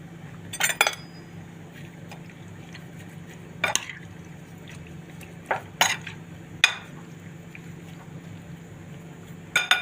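Fish fillet and shrimp tossed with a spice mix in a dish, heard as sparse metallic clinks and scrapes of a spoon against the dish, a few sharp taps spaced seconds apart over a quiet hum.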